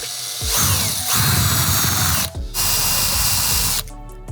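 A power drill bores through metal tubing on a gutter machine workstation, whining loudly in two long bursts separated by a brief pause, then stopping abruptly.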